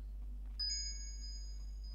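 In Mr. Hopp's Playhouse 2, a coin is collected with a single bright chime that rings out and sustains, clear over a low steady hum.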